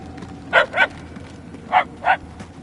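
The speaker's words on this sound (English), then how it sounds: "The barks are getting louder, at least." Dogs in Guardians of the Galaxy barking in two quick pairs of sharp barks, moderately loud and somewhat distant, over a low ambient game background.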